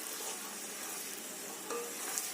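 A medium onion sautés in two tablespoons of oil for a white lobia curry, producing a faint, even hissing sizzle with a few soft stirring touches.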